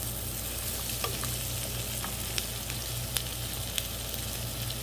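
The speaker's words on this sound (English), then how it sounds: "These are going to be the crunchy vegetables. We're going to saute them up just for maybe 3 or 4 minutes." Crunchy vegetables for a hotdog stew sauté in a pot, producing a loud, steady, dense sizzle throughout with a few faint clicks of a utensil against the pan, close and without talk.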